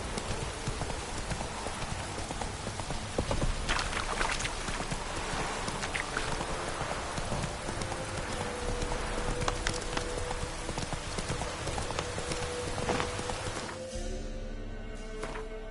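Roach the horse gallops in a video game, a dense, continuous clip-clop of hooves over a rain-like hiss that drops away abruptly near the end, with no talking.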